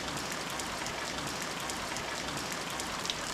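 Rain falls on outdoor surfaces on a May bank holiday in a steady, soft hiss with faint patters, heard near a David Brown 996 tractor. There are no voices.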